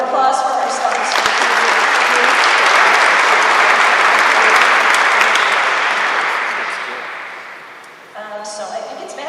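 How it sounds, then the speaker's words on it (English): Audience applause for sponsors at an Italian Heritage Month kickoff in Cleveland City Hall, a sustained roar of clapping from a large crowd that swells, holds for several seconds, then tapers off as talk resumes near the end. "let's have a round of applause for our sponsors"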